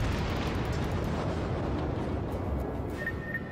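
Battleship guns fire in the naval combat game World of Warships, producing a heavy, sustained low rumbling boom that rolls on for several seconds with crackling debris and a few faint high pings near the end.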